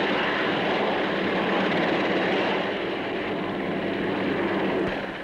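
Loud, continuous roar of a large military twin-rotor helicopter's engines and rotors at an air show, steady and close, easing slightly toward the end.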